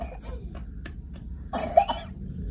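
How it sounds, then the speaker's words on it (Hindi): A few short coughs followed by a louder, harsher cough pair, close by and alone against a quiet background. "अभी देखे खांसी है आपको"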